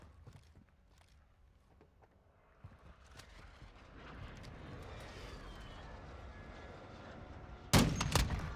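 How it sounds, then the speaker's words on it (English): A precision airstrike lands in a woodland shooter game, beginning as scattered faint pops and thuds, then swelling into a long rumbling barrage of blasts that peaks in a sharp, loud burst of explosions near the end. "Friendly precision airstrike inbound."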